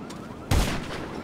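Gunfire in a one-on-one video game practice match: a single loud, sharp shot rings out after a quiet moment, followed by a short decaying tail.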